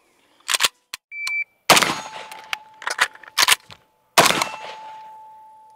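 Krebs Custom Mini Beryl AK rifle fired in quick bursts on a range at 25 yards. Loud sharp reports come in clusters separated by brief gaps, with a ringing steel-target tone lingering between shots.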